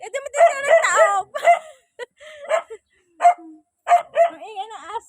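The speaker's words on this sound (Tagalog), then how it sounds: "Ang ingay ng aso." A dog yaps and whines in short, irregular bursts close by, high pitched and wavering, with brief silences between.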